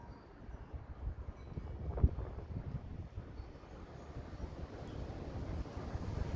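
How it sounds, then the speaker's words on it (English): A strong wind gust on an extremely windy, wet day roars as a steady low rumble of wind buffeting the microphone, swelling slightly toward the end, with no talking. "That is the biggest gust I've ever caught."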